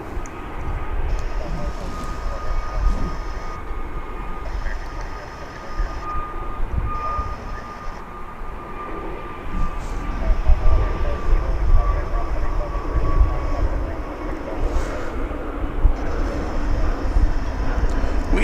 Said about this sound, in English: We have an American flight to Kansas City lined up on the south side to take off.